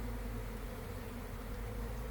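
Wild bees inside a natural hive opening give off a continuous low droning hum, steady and close, with no voices over it.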